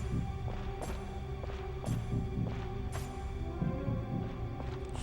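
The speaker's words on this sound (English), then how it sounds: "What's with the heart beating noise?" A low, steady heartbeat pulses in a video game, soft repeated thumps at roughly one-second intervals under a droning hum and background game noise.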